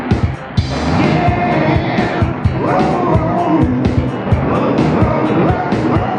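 A Corvette race car engine in a retro racing game on a plug-in retro console, loud buzzy synthesized engine revs rising and falling through a fairly dense, busy stretch of game sound.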